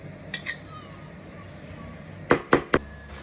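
Ingredients for chicken pastilla being poured and mixed, heard as a few faint early taps and then three sharp, close clinks of a utensil against a dish, with quiet room noise between them.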